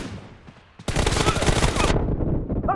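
Sustained burst of automatic gunfire in a team deathmatch video game, loud and close, starting abruptly after a quieter stretch and lasting about a second.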